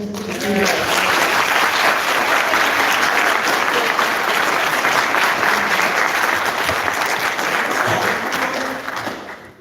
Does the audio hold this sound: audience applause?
yes